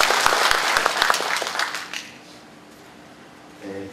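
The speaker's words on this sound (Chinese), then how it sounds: "我们大家是鼓掌欢迎。" Applause welcoming a speaker at a tax and finance court panel discussion: a room of hands claps steadily for about two seconds, then dies away into quiet room tone.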